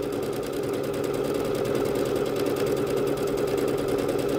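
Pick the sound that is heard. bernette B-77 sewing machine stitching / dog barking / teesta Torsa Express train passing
bernette B-77 sewing machine stitching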